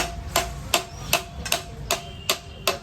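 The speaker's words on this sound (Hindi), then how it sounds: "इस पे हथौड़े पड़ रहे हैं" A hammer strikes a seized Yamaha R15 V4 motorcycle engine during disassembly: seven sharp metallic blows at a steady, fairly quick rhythm, moderately loud against a quiet background with no speech.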